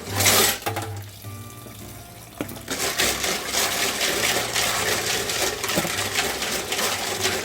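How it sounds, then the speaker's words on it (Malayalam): Clams are washed in a vessel under running water, giving a steady splashing, rushing flow with small clinks, moderately close and continuous over several seconds. "പാത്രത്തിലേക്ക് മാറ്റിയിട്ട് വേണം നമ്മളിതിനെ വാഷ് ചെയ്യാനായിട്ട്, അല്ലെങ്കിൽ ഇതിൻ്റെ അകത്ത് ചളിയൊക്കെ അതിൽ തന്നെ കിടക്കും"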